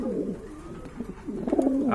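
Pigeons of a running pair coo softly and steadily nearby, low rolling calls with no speech.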